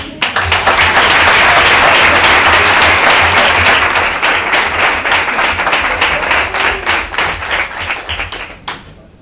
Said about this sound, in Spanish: El último aplauso es para Juan.